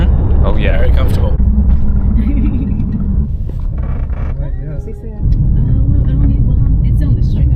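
Steady low road rumble fills the cabin of a car on a long drive, heard from inside, continuous and fairly loud with a brief dip, while voices seem to murmur faintly beneath it.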